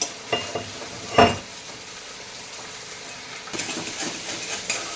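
Onion sautéing in oil in a pan for bitter gourd (karela) bhaji, with a soft steady sizzle, scraping stirs and one sharp metallic clank early on, close by and no voices.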